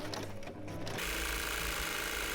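A sewing machine runs in a steady, loud continuous whir as it stitches trouser and pocket panels right sides together, starting after a brief quieter moment.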